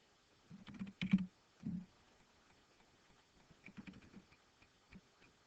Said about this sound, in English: type your name in the first cell in the first row